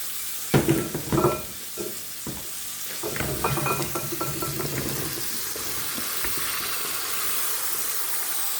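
Eggs go into a pan of fried spice paste for home cooking, with a few clattering stirs at first, then a steady hissing sizzle that continues on its own.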